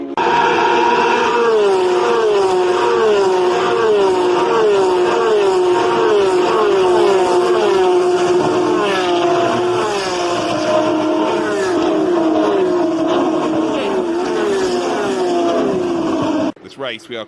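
Supercars race cars at full racing speed, engines roaring loud and continuous with rising and falling pitch sweeps as cars pass and shift, while a commentator talks over the noise.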